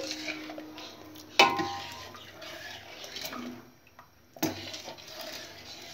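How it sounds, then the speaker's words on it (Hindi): A spoon stirs gram flour paste into chana saag in a cooking pot, soft scraping and sloshing punctuated by two sharp metallic clinks against the pot's side, fairly quiet and close. "अब इसे चलाएं अच्छी तरह से नहीं तो इसमें गुठलियाँ पड़ जाएंगी"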